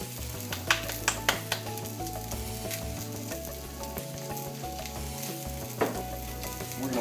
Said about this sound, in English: We're going to let that all saute together.